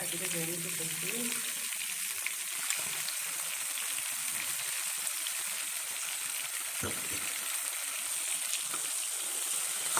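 Onion and a ground spice paste sizzle steadily in a frying pan, a loud, continuous bright crackle with occasional stirring scrapes, no talking over it.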